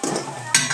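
Onion and paste frying in a pan, a short burst of stirring and sizzling with a louder scrape of the spoon near the end.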